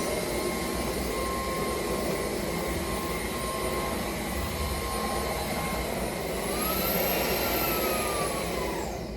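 A Sunsmai 5-in-1 cordless wet and dry vacuum runs continuously with a steady airy roar and a thin whine that shifts pitch near the end, heard close up without any talking.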